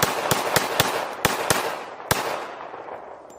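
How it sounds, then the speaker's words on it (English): Six sharp shots from a 1911 pistol fired outdoors, spaced irregularly across a few seconds, each a loud crack with a fading echo. "let's shoot the 1911, shall we?"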